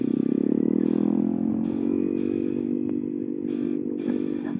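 A motorcycle ride at speed, heard from inside a NEXX X.WED2 adventure helmet fitted with a Sena X-COM intercom, gives a steady low engine drone with wind rush and faint intermittent clatter, and no talking.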